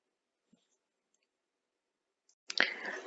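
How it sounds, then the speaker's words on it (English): A single soft click of a computer mouse selecting a web link, a faint isolated tap with a brief brighter burst of noise following it. "So click on the next link here to proceed to the next step"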